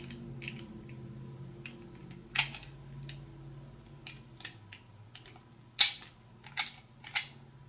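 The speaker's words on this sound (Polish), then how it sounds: "Zwalniamy zamek. Możemy nacisnąć spust." A .40-caliber handgun being handled: a series of sharp, close metallic clicks spread irregularly, with a louder snap near the middle and another later for the slide release and trigger pull, over a faint hum.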